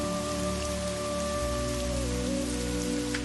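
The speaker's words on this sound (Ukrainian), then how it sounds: "прислухаєтеся до ритму, який краплі дощу вистукують дахом" Steady rain patters densely on a roof, a continuous close drumming with a faint tonal hum running underneath.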